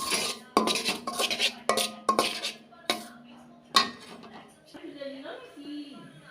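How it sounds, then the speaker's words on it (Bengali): A spoon knocks and clinks against a pan in a string of sharp, uneven strikes while semolina (suji) is dry-roasted, with softer scraping toward the end. "তো এই যে সুজিগুলো এখন ভেজে নেব।"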